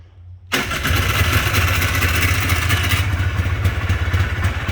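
A Polaris engine with a freshly cleaned carburetor fires up after a moment of near silence, then settles into a steady, loud, close idle with a rough mid-pitched rumble.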